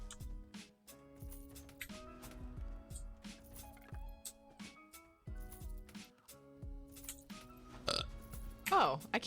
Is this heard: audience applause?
no